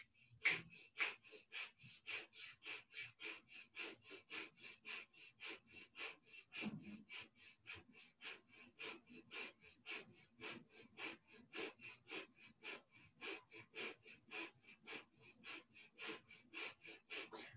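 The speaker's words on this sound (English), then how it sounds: "breath of fire." Rapid, rhythmic breath-of-fire yoga breathing: sharp nasal exhales pulse evenly about three times a second for the whole stretch, close and fairly quiet, with no talking.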